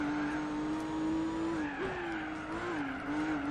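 Race car engine drone in Gran Turismo 4 on the Nürburgring, a steady loud tone dipping sharply under hard late braking before climbing again, with a faint tire skid, no talking.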